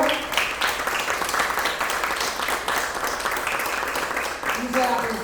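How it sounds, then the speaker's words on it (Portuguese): A church congregation at a worship service breaks into steady, dense applause lasting several seconds, a broad wash of many hands clapping together in a room, with a voice speaking over it. "Uma forte salva de palmas ao Senhor."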